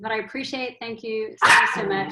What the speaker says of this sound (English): sorry about my dogs that are still barking